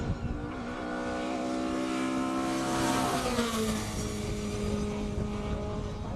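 A classic car accelerates past at a Cape Town speed classic racing event, its engine note rising then dropping in pitch as it sweeps by at moderate distance, loud and continuous.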